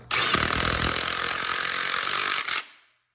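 Power tool driving a 14mm socket to tighten engine bolts on a Fiat 500 Abarth, a loud, steady, close whir that runs for a couple of seconds and then stops abruptly.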